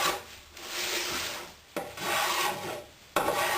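Hand plane trimming the inside edges of a handmade wooden box, with long continuous rasping strokes, two or three passes with brief breaks between them, close and loud with no voices.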